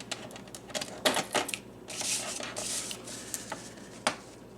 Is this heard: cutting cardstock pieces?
yes